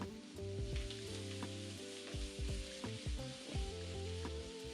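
Squid and carrot slices frying in a pan, a continuous close sizzle with crackling bursts and occasional stirring clinks, against some tonal background sound.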